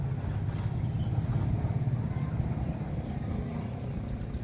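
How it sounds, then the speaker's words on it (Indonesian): A motorcycle engine rumbles steadily nearby on a street, its low drone holding at an even loudness throughout with no clear rise or fade. "Tuh lihat ada orang yang lewat motor ya."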